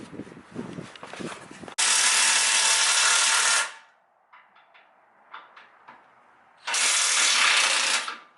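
A power tool runs in two long, loud bursts while removing rusty bolts from the rear bumper of a 3rd gen Toyota 4Runner, with softer clicks and clanks of the work between them.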